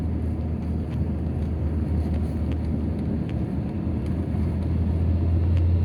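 A small car, either a 1985 Nissan Bluebird or a 2007 Suzuki Alto with a manual gearbox, accelerates hard from 40 to 80 in second gear, its engine giving a steady loud rumbling drone from inside the cabin.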